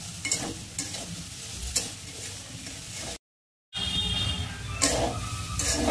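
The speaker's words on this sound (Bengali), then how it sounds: "ভালো করে মশলাটা দিয়ে কষিয়ে দেবো।" Soybean and potato frying with spices in a pan, stirred in scraping bursts over a continuous sizzle, close and alone, with a brief dropout midway.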